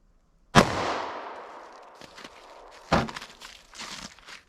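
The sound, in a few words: 9mm subcompact pistol shot into ballistics gel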